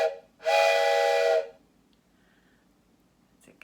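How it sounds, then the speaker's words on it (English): A toy train whistle gives one loud, steady blast lasting about a second, close to the microphone, followed by near silence. "It's my train whistle."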